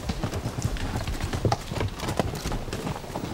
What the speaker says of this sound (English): Watch the horses.